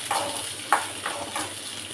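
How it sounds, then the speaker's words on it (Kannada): Onion, ginger, cinnamon, clove and pepper sizzle softly in a pan for a country chicken sambar, a faint steady crackle with a few light stirring clicks, and no one speaking. "ಸ್ವಲ್ಪ ಹಸಿ ವಾಸನೆ ಹೋಗೋವರೆಗೂ ಫ್ರೈ ಮಾಡೋಣ"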